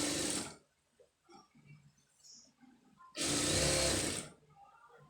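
Sewing machine stitching an embroidered blouse, two loud close bursts of fast running stitching separated by a quiet pause with faint handling sounds.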